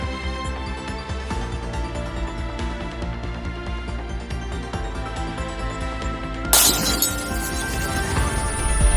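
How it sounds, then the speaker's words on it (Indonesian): Sustained music plays, then a sudden burst of shattering glass crashes loudly as a mirror breaks in a video game, its bright, crackling debris continuing under the music. "Kedua pecahan cermin pecah pada saat bersamaan."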